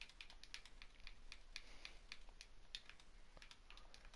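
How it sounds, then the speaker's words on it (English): Quiet, rapid typing on a computer keyboard, with irregular clicks of the keys tapping out steadily and closely against a soft background hiss. "It takes a while to type this out."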